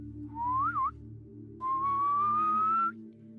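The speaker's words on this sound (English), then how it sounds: "When the sun was setting, Heidi heard a whistle." Two clear whistled notes: a short wavering one, a pause, then a longer rising tone, over a low steady hum.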